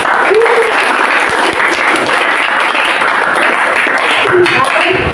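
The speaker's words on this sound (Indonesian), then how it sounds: "kita beri aplaus" Classroom applause for a student group after their presentation, a dense, loud and steady clapping of a roomful of people that fills the whole stretch, close by and without pauses.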